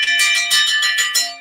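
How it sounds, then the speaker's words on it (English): A handheld bell rung repeatedly at a ring-side political event, bright metallic strikes pulsing about five times in quick succession, loud and close with a lingering ring between hits, no talking. "Let me ring the bell."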